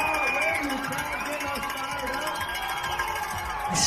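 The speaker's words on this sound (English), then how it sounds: "wants the crowd behind him, and listen to the roar" A crowd roars at an ice climbing World Cup lead final in Longmont, USA, a steady, broad wash of cheering that holds throughout beneath a voice commentating.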